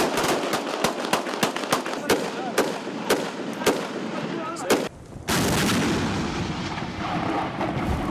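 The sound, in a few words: airstrike explosions and artillery fire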